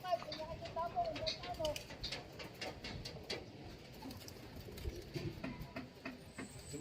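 Pigeons coo softly in a loft, low repeated burbling calls under murmured talk and faint background noise.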